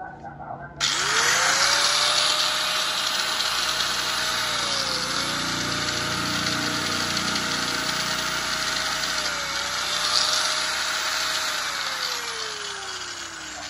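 A Hitachi XB 2000 electric power tool, 720 W at 12,000 rpm, whirs up to a steady high-pitched run after a brief start and holds it throughout with slight speed dips, loud and close.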